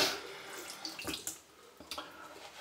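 A faucet lets out a small amount of running water, a quiet trickle with a few brief splashes and drips at a close distance.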